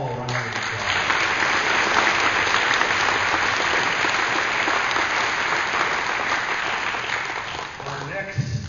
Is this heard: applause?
yes